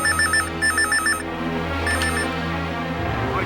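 A telephone rings in loud, warbling bursts, three quick rings followed by a fainter tone, with a low hum underneath and no talking.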